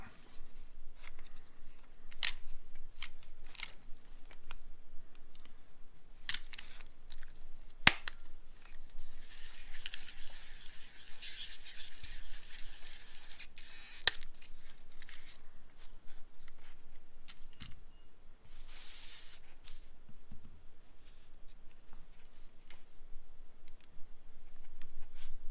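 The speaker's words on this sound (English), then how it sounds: "now we can try stripping the coax." A TS100 strip tool strips coax cable with a series of quiet, scattered clicks and snaps, plus a few sharper ticks and a short stretch of brushing, scraping noise partway through.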